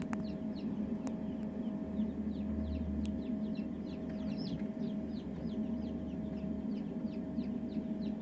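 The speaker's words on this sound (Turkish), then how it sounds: "Ondan dolayı civcivlerimiz şu anda çıkmış bulunuyor" Many newly hatched chicks peep in rapid, overlapping chirps at a moderate distance inside a closed incubator, over a steady low hum.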